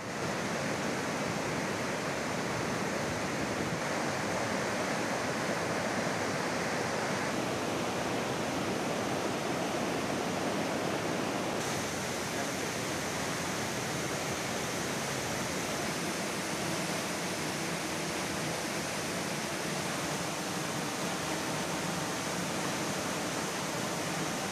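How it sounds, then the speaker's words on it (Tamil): Flooded waterfalls rushing after heavy rain at Courtallam, Kalakkad and Thalaiyanai falls, a dense, constant roar of pouring water, steady and unbroken, with no voices. "குற்றாலம், களக்காடு, தலையணை அருவிகளில் வெள்ளம் கரைபுரண்டு ஓடுவதால் சுற்றுலா பயணிகள் குளிக்க தடை"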